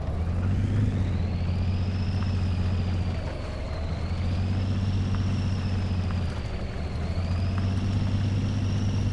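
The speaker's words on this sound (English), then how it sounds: "And you guys get to hear the lovely D-type engine." The D-type truck engine in the off-road driving game Mudrunner runs steadily with a low, heavy rumble and a whine that rises and falls, holding loud and continuous with no talking.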